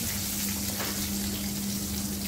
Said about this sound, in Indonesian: ini aku mau tumis juga sekalian biar semuanya enak